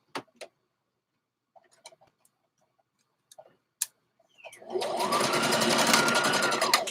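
A sewing machine runs a back stitch in a steady continuous whir for the last couple of seconds, preceded by scattered small clicks and taps, with a brief voice nearby.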